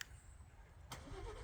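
A Ford Bronco engine cranks and catches partway through, with a sudden burst into a close, steady idle rumble after a quiet moment of low background hum.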